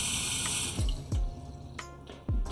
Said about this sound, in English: you will fill this up with water